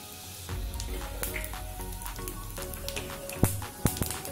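Asafoetida and cumin tempering sizzling in hot oil heated in a kadhai, a steady close crackle and fizz with a couple of sharper pops near the end.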